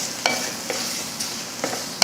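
Onion, garlic and grated coconut sautéing in a pan as a spoon stirs them, with scraping strokes about every half second over a steady soft sizzle and no voices.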